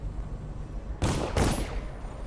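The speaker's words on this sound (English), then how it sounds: "What are they shooting at?" Gunfire in Dishonored, two short loud bursts of rapid shots about a third of a second apart, rising out of a quiet background.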